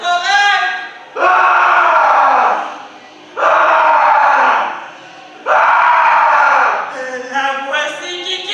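A woman screams on stage during a tragic theatre performance: three long, loud, sustained cries separated by short pauses, then a shorter, broken wailing voice at the end.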